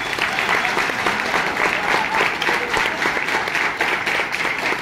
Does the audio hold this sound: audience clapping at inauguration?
yes